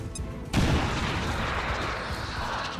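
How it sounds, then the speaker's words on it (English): Grenade explosion in the XCOM 2 video game: a single sudden loud blast that breaks into a long rumbling, crackling roar and slowly fades. "Right there, blow up the cover and blow up him. This is why we bring grenades."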